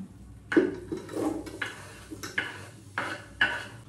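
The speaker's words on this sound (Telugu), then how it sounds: "ఉల్లిపాయలు అన్నీ వేసేస్తున్నా" Chopped onions tipped into a cooking pot for a Yakhni chicken pulao, a series of faint clattering scrapes and knocks of metal against the pot.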